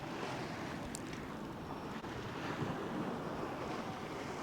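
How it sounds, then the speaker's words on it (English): Ocean waves surge and wash steadily in the background outdoors, a broad rushing roar mixed with wind buffeting the microphone, continuous with no one speaking. "This water going crazy in the background."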